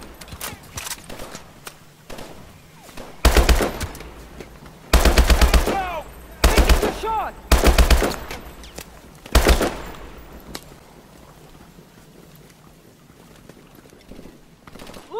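Bursts of Call of Duty machine-gun fire break out in several loud, rapid volleys of varying length, separated by quieter stretches of background battle noise and movement.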